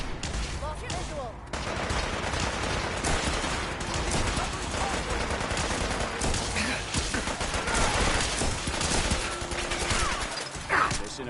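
Sustained bursts of rapid automatic gunfire and scattered shots in the Fallout 4 video game, loud and dense throughout, with voices calling out intermittently over the shooting.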